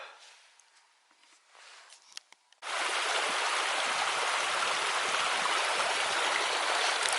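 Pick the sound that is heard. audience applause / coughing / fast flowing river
fast flowing river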